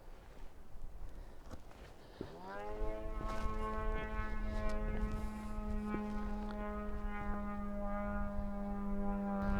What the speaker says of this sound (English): there's a powered glider up above circling around trying to gain altitude